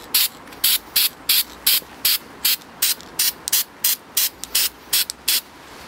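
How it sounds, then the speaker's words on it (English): Gunmetal silver grey spray paint is applied to an iron piece in a quick, regular series of about fifteen short aerosol bursts, each a sharp hiss close by, separated by brief pauses. "I'm now going to spray the whole piece a gunmetal silver grey colour."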